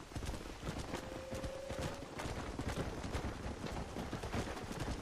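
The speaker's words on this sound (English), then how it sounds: "Look at me riding a horse." Hooves patter quickly and continuously as a horse is ridden in Red Dead Redemption, a dense galloping rhythm under steady outdoor noise with a brief tonal whistle early on.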